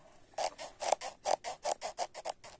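Handmade Rajasthani leather mojari shoes creak in a series of about a dozen short, squeaky bursts, evenly paced like footsteps, close and fairly quiet.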